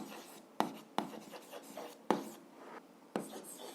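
A pen writing on paper for an algebra exercise, close and quiet, with brisk scratchy strokes and several sharp taps as the tip lands, in short bursts with pauses, no talking.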